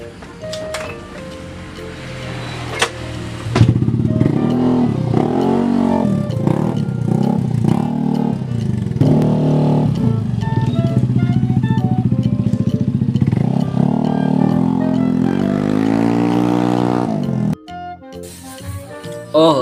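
A Yamaha Aerox scooter engine runs close by, idling and revving with rising and falling pitch for most of the stretch, then cuts off abruptly before a short clatter.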